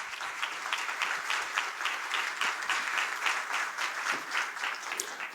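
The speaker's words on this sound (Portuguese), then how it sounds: "Eu pediria uma salva de palmas para o presidente Guilherme Serrano." Audience applause for president Guilherme Serrano at a Brazilian human rights event: a dense, steady patter of many hands, fairly loud and even throughout, with no one speaking over it.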